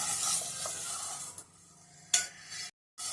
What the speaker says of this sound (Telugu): ఇవి కూడా డ్రై రోస్ట్ చేసుకోవాలి, ఆయిల్ వేయొద్దు.